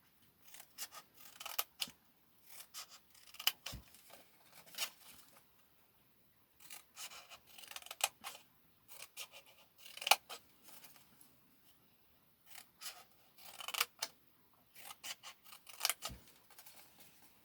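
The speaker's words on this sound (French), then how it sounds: "nous allons découper ici en biseau. Alors c'est parti. On coupe en biseau." Scissors cutting card at a bevel for a handmade ink box, with short crisp snips and rustling cuts coming in irregular bursts with pauses between, close and quiet, no talking.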